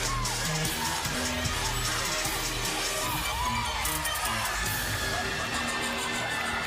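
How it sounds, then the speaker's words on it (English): Teammates of gymnast Brinley cheer and shout for her during her floor routine at a college gymnastics regional, a steady loud arena crowd roar with high yells and whoops throughout. "You can hear Brinley and her teammates cheering for her."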